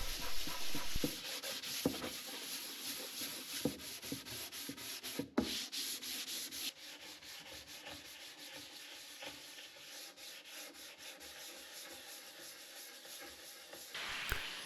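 Steady, close sanding of a shellac finish on purpleheart wood: a continuous dry rasping rub in repeated strokes that carries on for the whole stretch, with a brief pause partway through.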